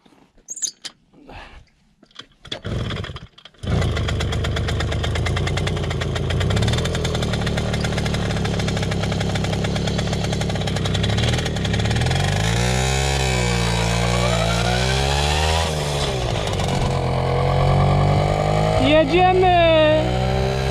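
A Romet Motorynka moped with a freshly cleaned carburetor, heard up close. A few handling knocks come first, then the engine catches and runs steadily, its revs rising and falling in sweeps, with a brief high whine near the end.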